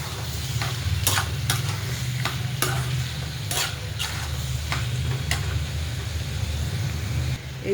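Bottle gourd and chana dal fry with garlic and green chilli, salted, while being stirred: a steady close sizzle with a low rumble beneath and repeated scraping strokes of the spoon throughout.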